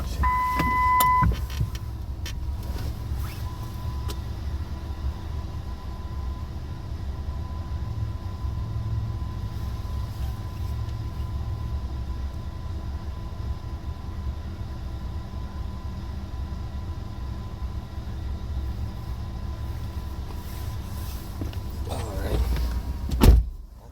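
A car rolls along steadily with a continuous low road and engine rumble and a faint tone running throughout, its tire faulty and rolling unevenly, ending in a brief louder knock near the end.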